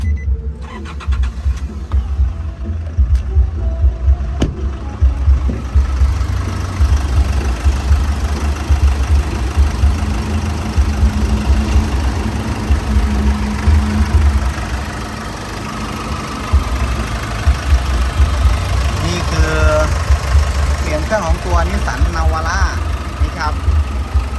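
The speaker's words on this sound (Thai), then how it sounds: "เดี๋ยวสตาร์ทให้ฟังเสียงเครื่องกันนะครับ" A 2013 2.5 VN Turbo pickup engine cranks and starts, then settles into a steady, close diesel idle with a faint knocking rhythm that continues alone throughout.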